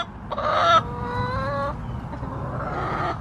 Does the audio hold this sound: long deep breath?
no